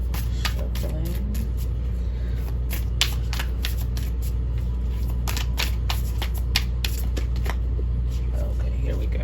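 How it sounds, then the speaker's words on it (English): Playing cards are shuffled in quick rippling riffles, a run of crisp snapping flutters up close over a low steady hum, with a voice speaking quietly in the background. "Shuffling."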